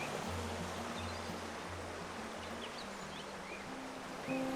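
Steady broadband rush of stream water flowing in a national forest trout-fishing spot, continuous and fairly close, with no talking.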